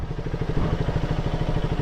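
A motorcycle engine idles close by while the bike is parked at a cafe and pub, a steady low pulsing throb with light mechanical clatter, alone.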